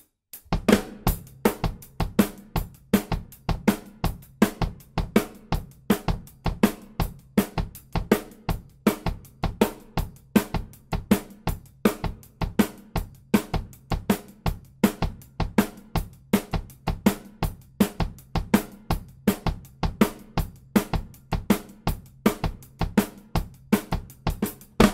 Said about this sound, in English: that boogaloo pattern on the kick was for you